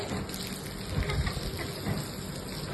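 Steady rain falling, a dense hiss of drops on surfaces, continuous and fairly close, with no talking.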